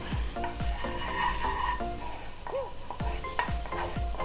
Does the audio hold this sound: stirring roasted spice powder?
yes